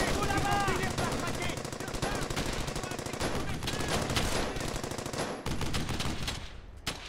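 Gunfire in Brothers in Arms: Hell's Highway, with dense machine-gun bursts and rapid rattling shots that go on almost continuously. Voices can be heard under the shooting, which thins out near the end.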